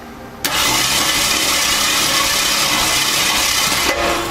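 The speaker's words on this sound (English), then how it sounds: "you're just putting it on starter and positive, and she cranks over." Javelin engine cranking over on the starter during a compression test, a sudden loud, steady churning drone that starts abruptly, runs about three and a half seconds, then briefly dips near the end, close up with no talk.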